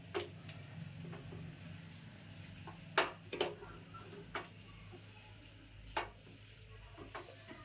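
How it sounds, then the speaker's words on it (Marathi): Semolina breakfast cooking on low gas while it is stirred, a faint quiet hiss with occasional soft spoon taps and scrapes at irregular intervals. "आता व्यवस्थित हा शिजवून घ्यायचा, म्हणजे ढवळून ढवळून."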